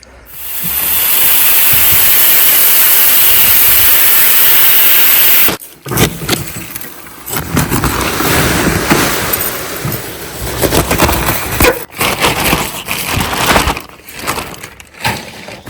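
A tractor pulling a broadcaster spreads fertilizer across a food plot, a steady hissing, grinding roar that holds loud and even for several seconds, then gives way to rougher, uneven mechanical rumbling and scattering noise.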